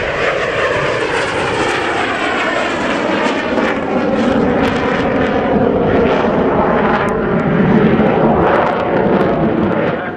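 A Dassault Alpha Jet of the French Air Force makes a long, slow display pass at an airshow, a loud continuous jet engine roar with a shifting, sweeping tone that lasts throughout, with no talk.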